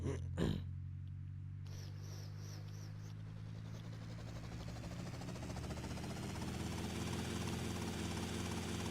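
A helicopter in the video game GTA Vice City Definitive Edition drones with a steady, continuous rotor and engine hum, heard close and alone for the whole stretch after a brief opening thump.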